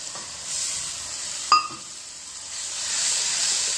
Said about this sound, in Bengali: মশলাটা দিয়ে আরেকটু কষবো